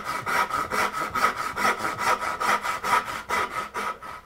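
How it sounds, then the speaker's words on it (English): Hand saw cutting finger joints in wood for a box joint, a close rhythmic rasp of about a dozen even back-and-forth strokes. "I'm putting the very edge of the sawtooth on that line."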